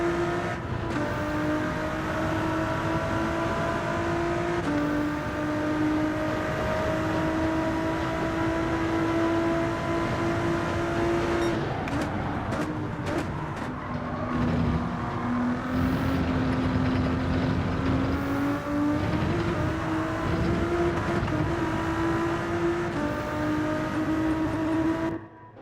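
A Toyota Supra race car engine in Gran Turismo 7 drones at a loud sustained pitch, rising and dipping through gear changes and brief lifts, with other cars audible alongside.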